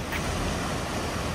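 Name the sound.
waves from fast ferries on Lake Como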